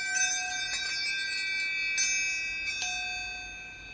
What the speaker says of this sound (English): the thing I'm most excited to share with you guys is a wind chime